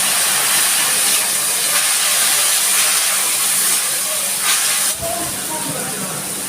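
Water splashed into a hot pan of cumin powder and Kashmiri chilli powder for a Malabar spinach and prawn curry gives a loud, steady steam hiss and sizzle that runs the whole time, with a brief dip near the end.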